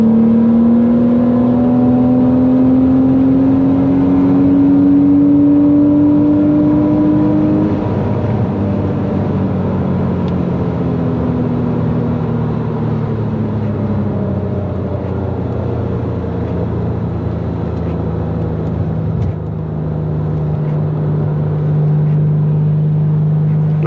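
A Porsche race car's engine drones steadily while driving gently on a very wet Eastern Creek track. The onboard sound is loud and continuous, with pitch rising and falling as the car changes gears, and no voices are heard.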